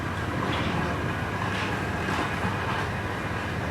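A model railway train runs along its layout track, a steady close rumbling and rattling that holds at an even level throughout, with no clear talk.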